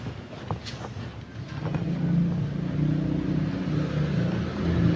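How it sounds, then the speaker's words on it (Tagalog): Road traffic rumbles nearby as a car passes and engines hum steadily, with wind buffeting the microphone and building to a sustained roar. "Parang traffic."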